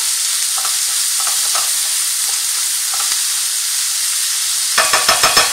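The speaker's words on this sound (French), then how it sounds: "je mélange ma farce" Cabbage roll stuffing being mixed with coarsely chopped parsley, a soft steady moist stirring with a few faint clicks and a brief burst of sharper scraping taps near the end, no voices.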